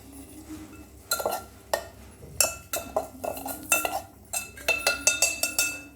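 A spoon clinks and scrapes against a metal pot as food is mixed after leaves are added, a run of sharp, irregular knocks that grows busier toward the end, close and fairly loud with no talking.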